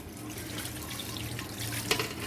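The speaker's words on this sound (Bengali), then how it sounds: "এখন আমি পানি দিয়ে দেবো" Water streams and splashes into a cooking pot of spiced beef trotters for nihari, a soft continuous pour with a small clink near the end.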